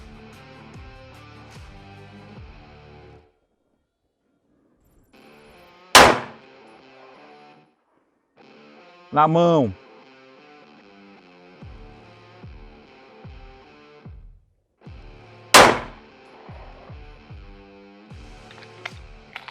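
Two sharp, loud gunshots fired at a target, aimed at the target's hand, ring out several seconds apart over steady background music, with a brief spoken phrase in between.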